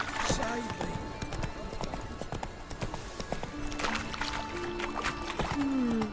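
Roach the horse's hooves clip-clop in a steady galloping rhythm in The Witcher 3, with whinnies, music and a voice in the background.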